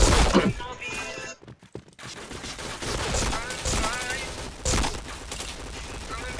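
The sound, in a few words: gunfire in the video game Point Blank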